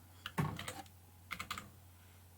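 Quick bursts of keystrokes on a computer keyboard, clustered in short irregular runs with brief pauses between, close and fairly quiet, no talking.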